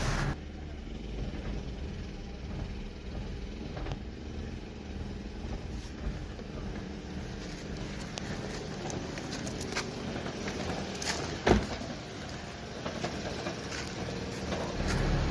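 A car engine with a clogged EGR valve runs with a misfire. The steady low engine rumble is mid-level throughout, broken by uneven stumbles and one sharp knock near the end, and no one speaks.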